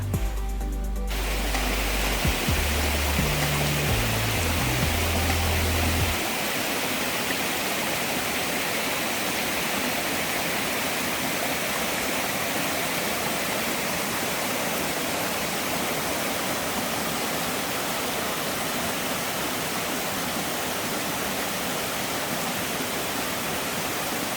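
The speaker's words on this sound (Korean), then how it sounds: "올여름 소나기가 많이 와서 시원한 계곡 물소리를 따라 들어가 봤습니다." A mountain valley stream on Mudeungsan near Gwangju, swollen by summer showers, rushes in a steady, full broadband wash that continues unbroken. A brief low rumble sits under the flow at the start.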